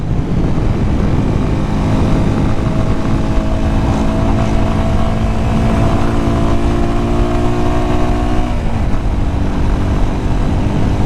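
A motorcycle with a muffler on its exhaust rides through town in Jamaica, its engine a steady, close, droning hum that holds an even pitch, then drops and wavers near the end.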